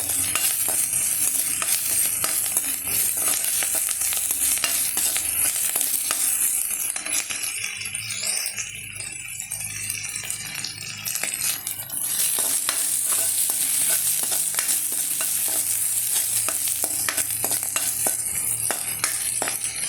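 Grated coconut, pepper and spices dry-roasting in a pan for coconut chutney powder, stirred continuously: a steady close scraping and crackling sizzle that runs throughout, with occasional metallic taps of the spoon.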